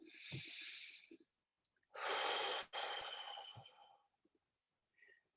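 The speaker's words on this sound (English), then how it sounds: "Just calmly breathing in through your nose and out through your mouth" Slow, deep breaths drawn in through the nose and released through the mouth, heard as a few long airy breath sounds separated by silences, close and fairly quiet, with no talking.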